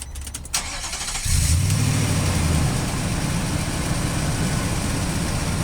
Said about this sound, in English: Let's turn it on and see how it sounds.